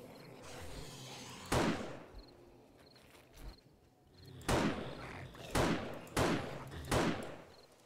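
Gunfire in the zombie survival video game 7 Days to Die: several sharp, loud shots spaced a second or so apart, each with a short echoing tail, over a low game ambience, with no talking.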